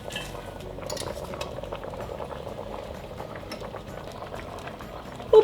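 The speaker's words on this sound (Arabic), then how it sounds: "وبقلبهم لأخلط المكونات مع بعض" Broccoli, carrots, water, salt, black pepper, paprika and garlic are stirred in a cooking pot for soup, giving a quiet wet bubbling and sloshing with faint utensil clinks throughout.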